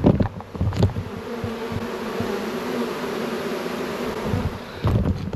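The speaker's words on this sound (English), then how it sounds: "I've literally just caught one of my own hives swarming right in front of me." A dense, continuous hum of a swarming honeybee hive fills the air, steady and close, with a few brief knocks and handling noises at start and end.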